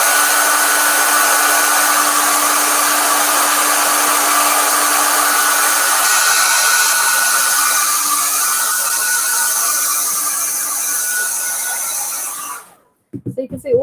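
A hair dryer blows over a wet watercolour painting, a loud steady whirring hum held without a break for about twelve seconds before it switches off abruptly.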